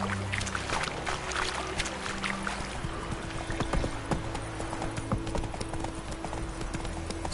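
Roach, a horse in The Witcher 3, clip-clops along with steady, close hoofbeats that keep up a loose rhythm over a busy background of ambient game sound.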